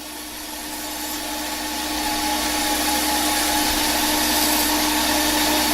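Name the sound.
saw cutting green willow wood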